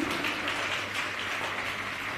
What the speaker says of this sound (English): That applause sounded like it had a little more dumpling and ackee behind it.